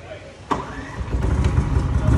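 A Bajaj soundproof petrol portable generator, a 12.5 kW recoil-start set, starts with a sharp pull and then settles into a steady low engine rumble that grows louder, with a voice speaking over it.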